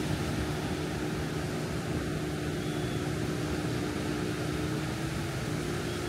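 An airplane coming in to land near Patong Beach, Phuket gives off a steady, loud engine roar that holds throughout without any break.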